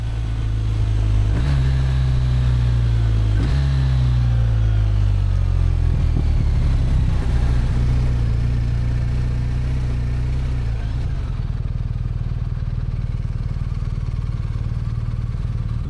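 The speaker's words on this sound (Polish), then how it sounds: "Wystarczy, że trzymamy zamknięty gaz i możemy zbijać biegi w dół niczym się nie przejmując." A BMW R1250RT motorcycle downshifts through its gears with a quickshifter on a closed throttle, the engine note dipping and rising in a few short steps before settling into a steady, loud drone.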